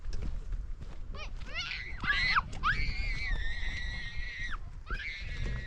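Children scream wildly outdoors on a mountain while foraging wild blueberries in Alaska, with long rising and falling shrieks over wind and background noise.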